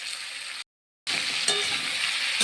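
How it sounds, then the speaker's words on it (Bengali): Pumpkin and eggplant pieces with salt, turmeric and green chillies fry in a pan, giving a loud continuous sizzle that cuts out briefly and then resumes. "সবজিগুলো ভাজা একটু দেখো"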